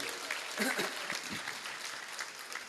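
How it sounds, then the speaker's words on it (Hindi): Steady applause from a crowd, continuous and fairly distant, with a voice faintly audible underneath. "एक बार इनके लिए दोनों हाथ खड़े करके तालियां दीजिए।"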